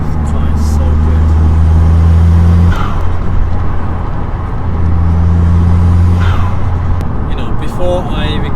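A home-built Audi A3 1.8T accelerating hard, engine droning loud and rising through two long pulls, with a brief dip at a gear change between them and an excited voice over the noise.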